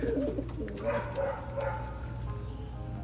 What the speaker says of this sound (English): three very good quality racing pigeons